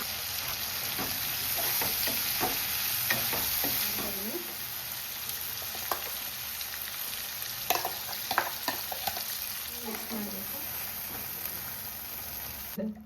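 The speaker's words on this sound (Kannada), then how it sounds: "ಮತ್ತೆ ಫ್ರೈ ಮಾಡ್ಕೊಳ್ತಾ ಇದ್ದೀನಿ" Chicken curry with chicken masala fries and is stirred in a pan, a continuous close sizzle broken by scraping spoon strokes and clinks, with occasional voices in the background.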